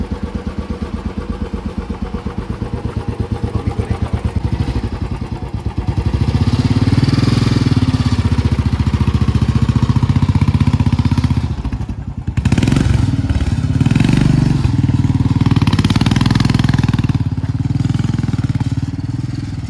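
A motorcycle engine fires up after a self-start in the hills around Manali, first a rapid ticking idle, then a louder steady rumble that drops out briefly and resumes close by.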